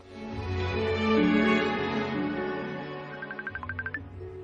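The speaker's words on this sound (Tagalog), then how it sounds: "Uy, may bagting man akong cellphone manang." A cellphone rings with a short run of rapid, bright chirping tones near the end, rising over a loud background of music and voices that fills the rest of the moment.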